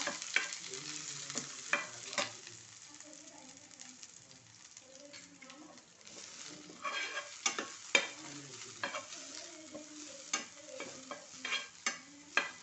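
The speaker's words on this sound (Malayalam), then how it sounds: "നമ്മൾ തേങ്ങയും ജീരകവും കൂടെ ചതച്ച് വെച്ചതാണ് അത് നന്നായി വറുക്കുക" Crushed coconut and cumin roast in a pan with a soft, continuous sizzle. Frequent scraping stirs and light knocks from a spoon against the pan are heard close by, fairly quiet overall.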